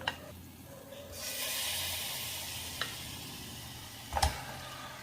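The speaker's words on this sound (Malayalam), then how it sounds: "ചൂടായ ഒരു പാത്രത്തിലേക്ക് ചിക്കൻ ഇട്ട് കൊടുത്താൽ മതി." Marinated chicken hitting a hot, dry pan with no oil, giving a faint steady sizzle that swells after a second, with a few sharp clicks and a small clatter near the end.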